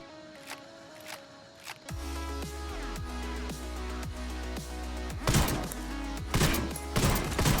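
An SASG-12 shotgun fires at a vehicle in Ghost Recon Wildlands, starting with a few spaced blasts and then settling into a steady rhythm of loud reports over a low game engine rumble, with heavier impacts near the end.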